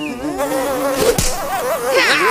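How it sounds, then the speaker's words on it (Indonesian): A fly buzzes steadily close by, its whining drone wavering up and down in pitch throughout. "Lihat itu seekor lalat."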